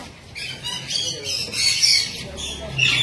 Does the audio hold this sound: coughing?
no